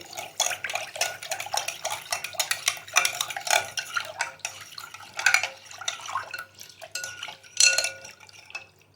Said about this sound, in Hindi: इमली का गूदा 2 टेबल स्पून। अच्छी तरह से मिक्स कर लेंगे।